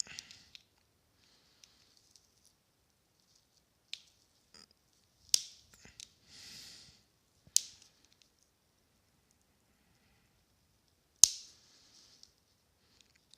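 Sharp, isolated snips of flush cutters trimming component leads close to a circuit board, several crisp clicks spaced irregularly with quiet gaps, close up and without talking.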